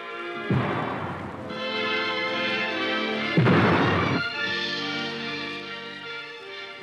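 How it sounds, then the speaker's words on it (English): A 21-gun artillery salute for the visiting President of the Ivory Coast at a state welcome: two heavy booms a few seconds apart ring out over sustained band music playing throughout. "A 21-gun salute and full honors for Félix Houphouët-Boigny, President of the Ivory Coast."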